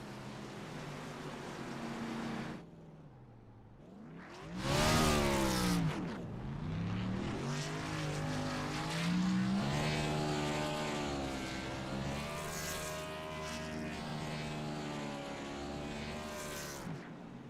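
A race car engine screams through a qualifying lap at Atlanta in a racing video game, pitch sweeping up and down through gear changes and corners, loud and continuous with a sharp rise early on.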